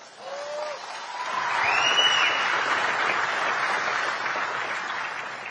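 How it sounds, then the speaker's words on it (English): A crowd at a Trump event applauds steadily after a speaker's remark, a dense, sustained wash of clapping with a few faint cheers rising above it. "Yeah, you can applaud that."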